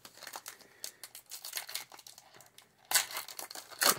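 Crinkly foil wrapper of a football trading card pack being torn open, with steady close crumpling that swells into a louder, sharper rip near the end; no talking.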